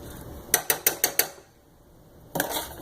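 Spoon stirring arroz con pollo ingredients in a pot: five quick evenly spaced scraping knocks, a pause, then another burst of clattering, close and fairly loud.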